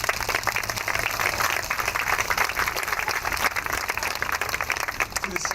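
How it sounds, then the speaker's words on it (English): A crowd of school children and adults applauds at an elementary school groundbreaking ceremony for the Elyria City School District, steady dense clapping filling the whole stretch, loud and close. "Give yourselves a round of applause."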